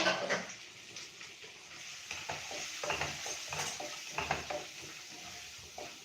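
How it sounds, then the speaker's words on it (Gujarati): Spices such as coriander-cumin powder sautéing in a pan for dal kachori, a soft, moderate sizzle with repeated scraping stirs and small clinks, close and fairly quiet. "હવે આપણા મસાલા એકદમ સરસ સોતળાઈ જાય"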